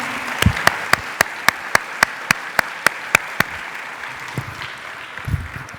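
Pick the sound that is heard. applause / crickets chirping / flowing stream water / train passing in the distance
applause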